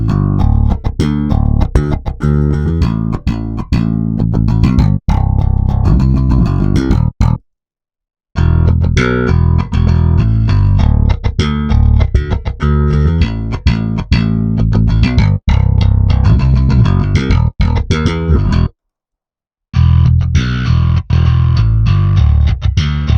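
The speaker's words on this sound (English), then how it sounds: "We have DI, clean and distortion modes, so let's quickly see how they sound." Bass guitar played through an amp cycling between DI, clean and distortion modes: loud, continuous riffing with two brief silent gaps where the mode changes, the tone shifting between sections.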